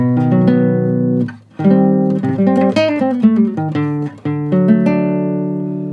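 A guitar in standard tuning plays the opening line of a video game theme: clean, close plucked notes and chords with ringing sustain and a short pause between phrases, and no voice.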